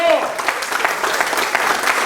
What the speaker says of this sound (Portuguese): Aplauda o Senhor, porque Deus é poderoso.